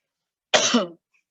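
A single short, harsh cough from a speaker during an archaeology tribute talk, close and loud against silence.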